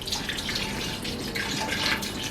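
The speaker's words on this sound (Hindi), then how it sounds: "हम इसमें 2 से 3 गिलास पानी शामिल करेंगे।" Two to three glasses of water are poured into a pressure cooker holding meat, ginger-garlic paste and salt while cooking namkeen piyaz gosht, giving a steady rushing splash that holds evenly throughout, with no voices.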